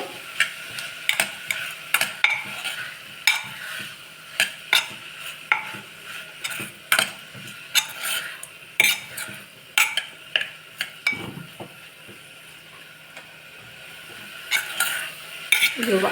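Mint sautéed in a pan for varagu (kodo millet) rice biryani, with a steady series of sharp spatula scrapes and taps against the pan over a soft sizzle, close and fairly loud, no voices.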